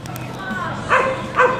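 A dog in a village near the Parnaíba Delta gives two short, high-pitched yips, close and fairly loud, over a low background hum.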